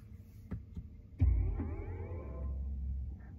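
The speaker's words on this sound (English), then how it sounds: "It's the best EV sound I've ever heard." A BMW iX40 electric car's synthesized driving sound, a rising layered electronic tone that swells after a soft thump and holds steady over a low rumble, close and fairly quiet, with no talking.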